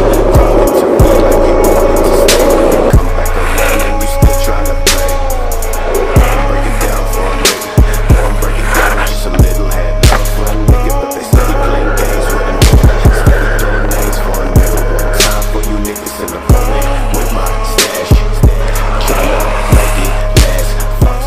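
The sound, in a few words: skateboard rolling on These 327 80a and 82a wheels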